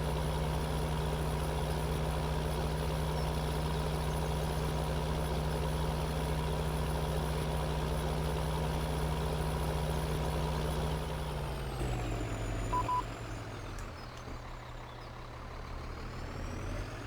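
A tractor pulling a trailer in Farming Simulator 2013 runs with a steady low diesel drone, then the engine note drops and settles lower near the end, continuous and without voices.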